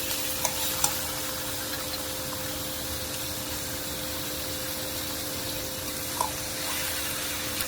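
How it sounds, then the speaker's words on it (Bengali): Broiler chicken meat, over a kilo, frying in oil with onion in a pan: a steady, close hissing sizzle runs throughout, with a few faint clinks near the start and later on. "মাংসটাকে ভেজে নিব"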